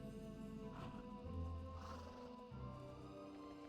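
A horse mount in World of Warcraft lets out a drawn-out, wavering neigh with a low snort partway through, clear and fairly close over faint game ambience, with no talk.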